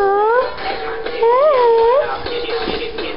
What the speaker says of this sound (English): Puppy, say hello to the people.